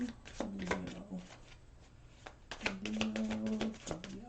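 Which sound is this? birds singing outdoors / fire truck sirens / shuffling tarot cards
shuffling tarot cards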